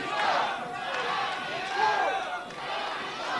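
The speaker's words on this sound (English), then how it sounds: "And listen to the crowd." Wrestling crowd at a live match between Damian Drake and Funny Bone, a steady roar of shouting and cheering fans that swells and dips, with a louder surge midway.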